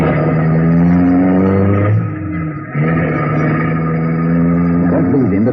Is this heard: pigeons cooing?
no